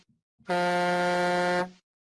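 A loud, sustained air horn blast sounds on its own for about a second, steady and harmonically rich, cutting off abruptly.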